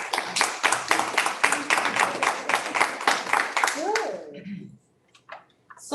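Audience clapping at a school board of education meeting, a run of fairly quick, even claps that stops after about four seconds, followed by quiet and a brief voice.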